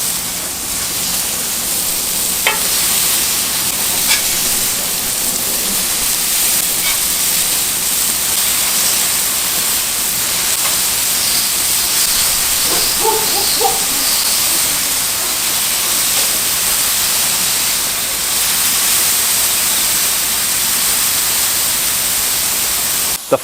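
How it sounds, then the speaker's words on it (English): Hamburger patties sizzle on a very hot flat iron grill, a steady, loud broadband hiss running unbroken throughout, with a few faint clicks and taps over it. "The flat iron gives it that nice even char all the way across the burger."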